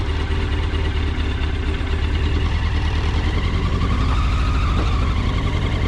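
A restored GP racing motorcycle engine runs in first gear with a loud, steady, throbbing drone that holds close and continuous throughout.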